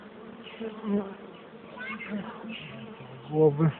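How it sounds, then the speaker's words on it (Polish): Many bees buzz around an open hive, a close, steady drone that rises and falls. Someone talks over it. "bardzo mi pełno pszczół."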